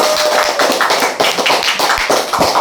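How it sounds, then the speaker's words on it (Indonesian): A room of people applauds at the close of a teacher-training session, a dense, close burst of clapping with uneven rhythm that rises and falls over a few seconds. "Tepuk tangan untuk itu semua."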